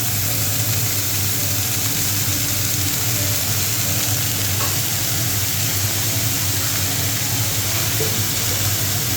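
Leafy greens hitting hot oil already holding fried garlic and chili, a loud, dense, continuous sizzle and crackle heard up close, with no voices.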